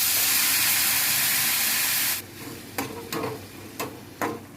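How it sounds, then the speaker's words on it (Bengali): Cumin, turmeric and coriander powder fry in a pan for tadka dal. A loud, steady sizzle cuts off abruptly, then a few sharp scraping stirs follow in the quieter pan. "একটু জিরে ফোড়ন দিয়ে দিলাম, হলুদ দিয়ে দিলাম, ধনে গুঁড়ো দিয়ে দিলাম"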